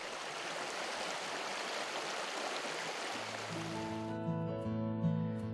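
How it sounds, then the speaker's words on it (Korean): Shallow, fast-flowing Gihwacheon stream, a clear tributary of the Donggang river, rushes in a steady broadband wash; after about three seconds a low tonal hum joins in beneath the water noise. "기화천은 물이 얕고 물살이 빠른 곳이다."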